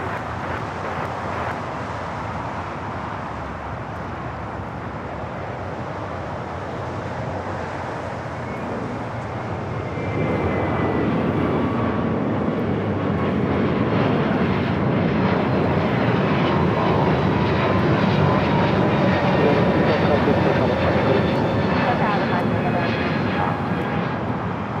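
An airliner takes off from runway 25 right at Los Angeles International Airport, its engines a steady broad roar that swells louder partway through and holds, heard at a distance outdoors with wind on the microphone.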